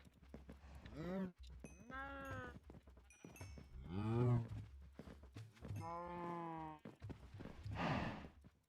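Several long, drawn-out cow moos follow one another, some lower and some higher pitched, with brief pauses between them.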